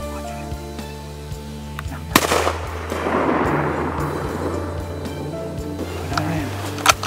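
A single sharp rifle shot rings out at a 5x7 bull elk during a hunt, cracking loudly outdoors and rolling into a long fading echo over a quiet background.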